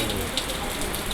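Steady rain falls in an outdoor setting, a dense, even hiss with faint droplet patter, moderately loud and continuous for about a second with no voices.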